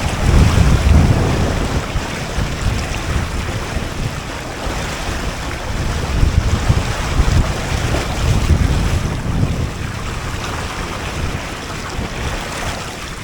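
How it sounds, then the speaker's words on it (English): Strong, steady rushing of seawater churning aft of a small 21 ft home-built sailboat crossing the Atlantic, loud and continuous with heavy wind buffeting the microphone throughout. "all that water rushing back aft"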